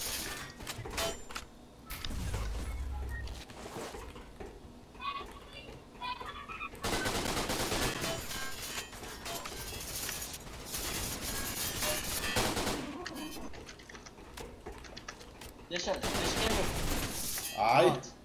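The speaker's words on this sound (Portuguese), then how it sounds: "Tiro tá comendo solto, mano." Bursts of rapid gunfire in the video game Line of Sight, automatic volleys in several loud stretches separated by quieter moments with mechanical clicks.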